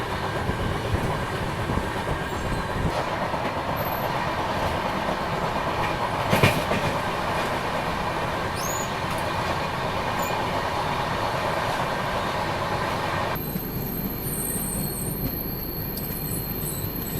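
The Kerala Express overtaking on an Indian railway line, a steady loud rumble of rolling carriages with clattering wheels and faint squeals, heard close up throughout.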